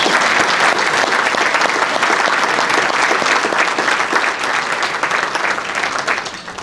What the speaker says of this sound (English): Please join me in a round of applause for all of these people one more time.